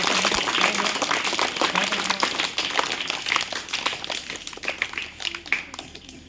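An audience at a school results and prize event for young pupils claps in sustained, dense applause that gradually thins and fades, with a few louder individual claps near the end.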